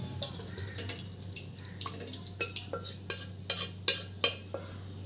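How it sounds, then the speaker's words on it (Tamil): Cooked green gram lentils tipped into a cooking pot for keerai kootu, with a series of light metallic clinks and scrapes of a spoon against the vessel, close and fairly quiet over a low steady hum. "இப்போ வேக வச்சுருக்க சிறுபயிரை இந்த பாத்திரத்தில் சேர்த்துக்கலாம்"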